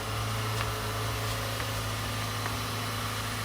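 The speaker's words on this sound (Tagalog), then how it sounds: "Yan yung motor, yung pump" A battery-powered tyre pump motor runs steadily with a constant hum and buzzing vibration, a low even drone heard alone at moderate level.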